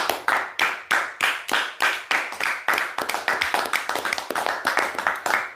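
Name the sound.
church congregation applause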